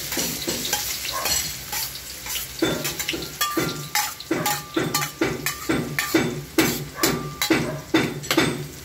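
Onions frying in a pan for a seafood lunch, a continuous close sizzle broken by a regular rhythm of scraping ladle strokes, roughly two per second, loud with no talking.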